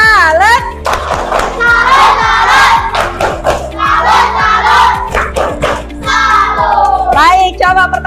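A primary-school class claps a rhythmic salute together, sharp hand claps in a repeated pattern mixed with loud children's shouts and chanting voices, close and lively in a classroom.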